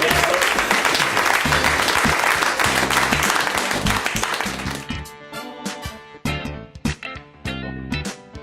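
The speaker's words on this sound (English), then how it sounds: "let's give a round of applause to our technologists" Loud, dense applause for the technologists at an improv comedy show fills the first five seconds, then thins into scattered individual claps with some music-like tones underneath.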